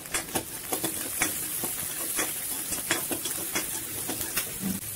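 Steady sizzling and crackling of curry leaves frying in hot oil, with scattered pops over a continuous hiss.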